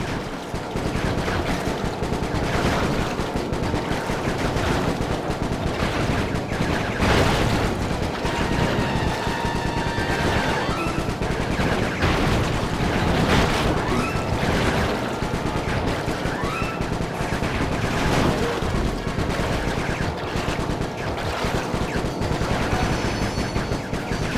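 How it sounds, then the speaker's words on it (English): Sustained, dense automatic gunfire from an overheating gun during a boat chase along a shipping canal in the video game Sly Cooper 3, loud and continuous for the whole stretch with game music and effects mixed in. "My gun overheated! Guess I should use short burst!"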